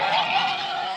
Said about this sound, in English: We got some more ducks